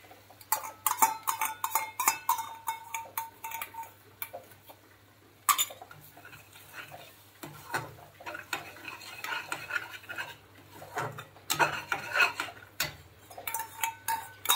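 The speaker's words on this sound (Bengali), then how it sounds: "এবার এর মধ্যে এই যে 2 চামচ টক দই ফাটিয়ে রেখেছিলাম, এটাকে গ্যাসের ফ্লেম আস্তে করে এটাকে মিশিয়ে নেব।" A spoon works beaten sour yogurt into spiced masala in a pan over a low gas flame, with repeated light clinks and scrapes against the metal under a faint steady hum.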